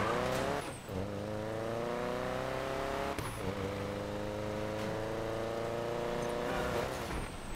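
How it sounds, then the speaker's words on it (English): Engine of a fast car in Need for Speed Payback roars loudly and steadily with rising revs, a brief gear-shift dip, then climbing again; the car's front end is slightly damaged. "Wow, this car is so fast now, dude."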